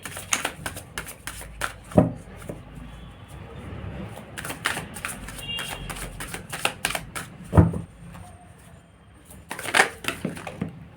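Tarot cards are shuffled and drawn close by, with quick riffling bursts and sharp flicks of cards snapping down, loud at moments and coming in clusters.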